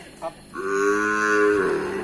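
A pair of young crossbred cattle at a northern Thai livestock market in Nan; one gives a long, loud, close moo lasting over a second after a brief short call, with no talk over it.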